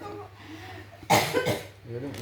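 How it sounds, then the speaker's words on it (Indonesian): A single harsh cough bursts out near the mic, followed by a brief throaty rasp, against a quiet room with a low hum. "Gua lagi batuk."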